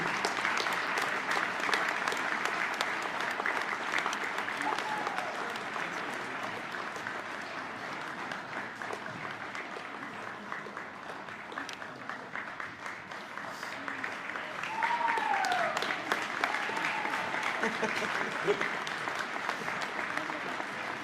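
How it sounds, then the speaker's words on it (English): Applause for a Hall of Fame inductee at a high school ceremony held alongside a basketball doubleheader, long sustained clapping from a sizable crowd that holds steady and swells slightly toward the end. "Let's have a round of applause for Jill Pingree."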